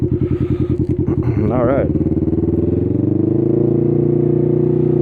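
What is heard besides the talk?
Can-Am Ryker motorcycle riding with aluminum ShowChrome boards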